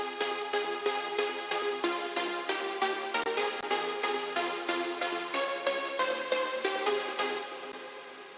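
Unlove synth lead preset from a sample pack, processed with a low cut around 237 Hz and a high-frequency boost, plays a steady run of rhythmic bright notes with regular pulsing attacks, loud and alone, ending abruptly.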